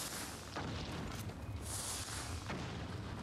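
Dull bomb explosions in the video game Nioh 2, two or three faint booming bursts over a constant noisy game background.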